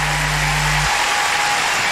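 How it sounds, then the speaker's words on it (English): A crowd at a 1999 World Figure Skating Championships men's short program fills the arena with loud, steady applause and cheering, the biggest reaction of the night, dense broadband noise throughout. "Biggest reaction from the crowd all night."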